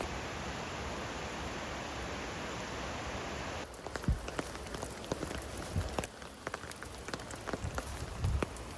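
Rain falls steadily on a wooded forest trail in San Francisco, a close, even hiss of drops with scattered louder drips and light rustles.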